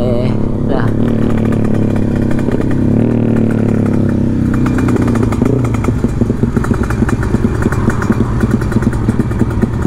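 Several motorcycles, including small bikes and a larger sport bike, run along a road with buzzing, revving engines and rattly exhaust close by, while people talk over the noise.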